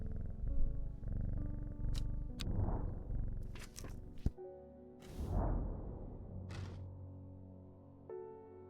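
A cat purrs in the Strange Horticulture video game, a low rumbling purr that swells and fades in waves, mixed with soft thuds, swishes and brief clicks.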